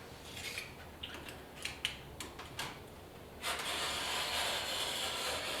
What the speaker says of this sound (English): I'm going to find my knife. I'm going to score the veneer